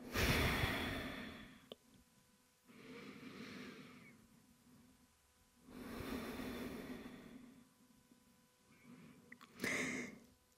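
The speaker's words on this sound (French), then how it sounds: "Essayez de calmer la respiration, calmer les battements du cœur." Slow, deep breaths during a yoga exercise, four or five long airy inhales and exhales separated by pauses, close and fairly soft, with a final sharper breath.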